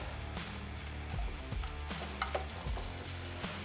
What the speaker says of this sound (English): So, okay, let's fry that off. Sausage is doing nicely.